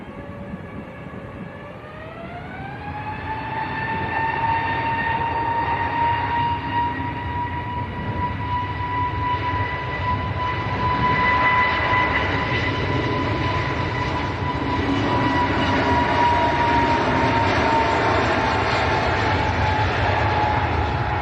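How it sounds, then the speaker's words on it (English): An easyJet airliner moves out for departure at Manchester Airport, a sustained engine whine rising in pitch over the first few seconds and then holding steady and loud, with a broad roar underneath and no talking. "EasyJet coming out for departure as well."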